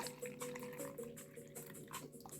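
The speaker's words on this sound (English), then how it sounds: "I'm going to add water to make it equal parts. Half water, half hydrogen peroxide." Water poured into a hydrogen peroxide mixture for soaking hibiscus seeds, a faint continuous trickle and splash with small bubbling, heard alone.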